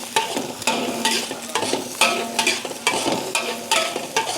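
Egg fried rice stir-fried in an oily pan, with a steady sizzle under repeated scraping and tossing strokes of a spatula at a brisk, regular rhythm, close and fairly loud, with no talk.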